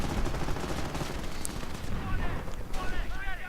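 Video game battle with commandos under fire, grenadiers advancing and Puma armored support: dense rattling gunfire and booming artillery blasts pile up continuously, with a voice talking over the combat.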